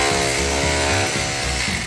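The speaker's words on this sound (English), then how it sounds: "The fine and non-existent art of drilling holes into bricks without making them crack" A power drill grinds steadily into brick, giving a loud, continuous mechanical whine with a rough, pulsing churn underneath as the bit bores in.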